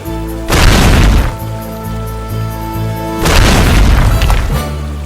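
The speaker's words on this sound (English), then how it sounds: "Nach der schrecklichen Explosion wurden die stumpfen Schläge von herabfallenden Stämmen überall gehört." A heavy explosion followed by the dull thuds of falling logs, two big booming bursts with a rumbling tail between them, loud and close.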